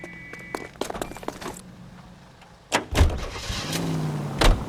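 In LA Noire, detectives climb into a car and drive off. Scattered clicks and a door thump come first, then a heavier door slam, and an engine starts and rises steadily with a final thud, with no talk.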